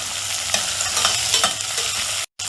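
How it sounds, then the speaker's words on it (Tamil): Shallots and mutton sautéing in a pan, a steady close sizzle with soft stirring scrapes throughout and a brief dropout near the end. "நல்லா வதங்கட்டும்."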